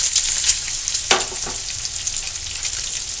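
Boiled eggs frying on low gas for egg masala, a constant bright hiss of sizzling oil with a couple of brief stirring or turning scrapes near the middle.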